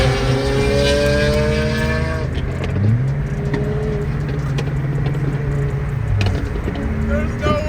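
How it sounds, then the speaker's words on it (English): A Veilside RX7, a Lamborghini and a Nissan GTR rev loudly and crackle close by, with engine tones rising and holding as the cars spit exhaust flames. People talk over the engines. "please tell me you got a shot of all of us shooting flames"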